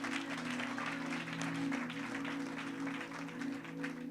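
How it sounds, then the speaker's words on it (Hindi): A church congregation at a Sunday worship service claps continuously and loudly in praise, steady applause over a sustained low musical drone. "ताली बजा के प्रभु को महिमा दे।"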